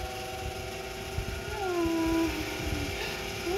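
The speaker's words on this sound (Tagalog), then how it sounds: "Kulit-kulit na pusa na to eh." A cat gives a drawn-out meow followed by a shorter rising one over steady background hum and noise.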